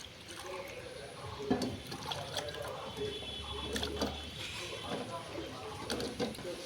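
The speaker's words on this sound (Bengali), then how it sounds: "কোয়াশগুলোকে আমি ভালো করে ধুয়ে নিলাম" Squash pieces are rinsed by hand in a bowl of water, with close splashing and trickling, intermittent sloshes and drips over a busy background.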